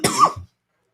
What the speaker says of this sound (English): That's just a nice expansion cough.